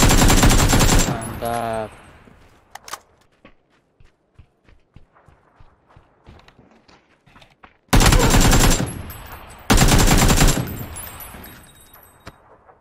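Automatic gunfire in the battle royale shooter PUBG, loud sustained bursts at the start and again in two long stretches later, separated by quieter single shots and footsteps, with a brief spoken word.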